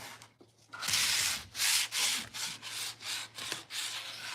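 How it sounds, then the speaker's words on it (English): Rhythmic sanding of a painted wooden table, a series of scratchy back-and-forth strokes close by, steady and fairly loud with brief pauses between passes. "Then Jamie is sanding this."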